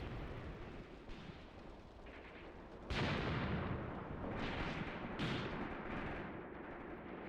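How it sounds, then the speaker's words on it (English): A big explosion goes off in a World War II strategy game set on the Mius Front, a sudden booming burst followed by rumbling and a second blast, heard among ongoing distant battle noise with no talk. "Nice big explosion over there."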